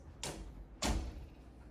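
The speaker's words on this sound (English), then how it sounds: "Should probably close the door." A door is closed in two quick movements, a soft swish followed by a heavier thud as it shuts, close by in a quiet room with no talking.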